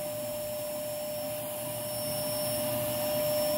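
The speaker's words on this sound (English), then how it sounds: "Now for wand suction, we have lost a little bit." A Lindhaus Aria Elite vacuum cleaner runs steadily through its wand, a continuous whining roar with a fixed tonal hum that grows slightly louder toward the end.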